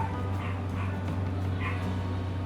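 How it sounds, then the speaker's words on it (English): Faint dogs barking and yipping in the distance, a few scattered barks over a steady low mechanical hum. "Sorry about the dogs."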